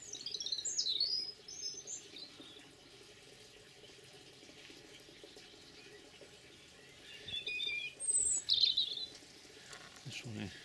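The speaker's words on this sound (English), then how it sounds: "Robins are singing." Robins singing in a winter garden, bright twittering phrases in two bursts near the start and again toward the end, moderately close over a soft steady background wash.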